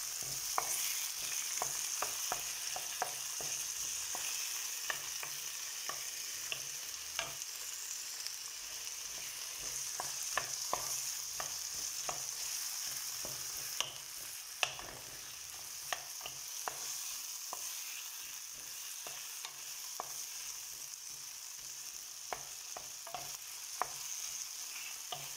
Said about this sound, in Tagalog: ganyan lang, haluin.